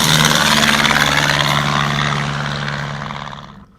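A small propeller airplane taxis on a rough, poorly maintained runway at Columbia, Ohio, its engine droning loudly and steadily close by before fading slightly at the end.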